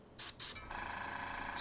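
An airbrush sprays ink in two short close bursts of airy hiss, then settles into a steadier, quieter spray.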